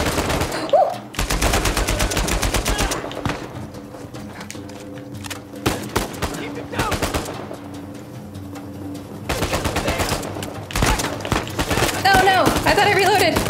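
Gunfire in Uncharted 4: A Thief's End rattles in dense, loud automatic bursts and single shots through most of the stretch. Brief pauses between volleys carry faint chatter.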